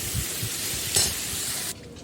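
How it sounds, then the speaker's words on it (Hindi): Vegetables with fried cauliflower sizzle while being tempered and stirred in a pan, a steady close frying hiss with a few stirring scrapes and a brief louder spatter before the sound cuts down. "तो यहाँ पे मैं सब्ज़ी को पहले छौंक दे रही हूँ।"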